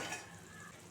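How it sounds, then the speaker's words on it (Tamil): Tomato thokku with water sprinkled in simmers and fries in a pan, giving a faint, steady sizzle with soft hissing throughout. "தண்ணி தெளித்து இந்த தொக்கை நம்ம கொதிக்க விடலாம்."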